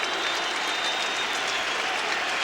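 A baseball stadium crowd cheers and claps during a 2001 Mets vs. Braves game, a loud, dense, continuous roar of applause with no distinct voices over it.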